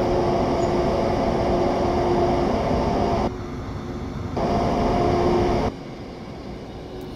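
Cab sound from a train in Train Sim World on the Main Spessart Bahn between Aschaffenburg and Gemünden, a steady loud rumbling drone with a faint hum that drops in level twice as the sound abruptly shifts.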